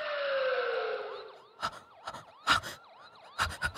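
A police siren wails loudly with a falling tone, then repeating whooping sweeps, broken by sharp loud knocks and bangs toward the end.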